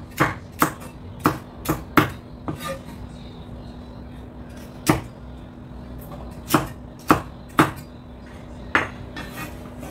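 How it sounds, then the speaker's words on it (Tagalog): A knife chops the core of a cabbage on a cutting board, with about a dozen sharp, distinct knocks in irregular clusters, close and fairly loud over a quiet background hum. "Pag sama-samahin yung gitnang parte ng repolyo, hiwain at isama sa mga carrots."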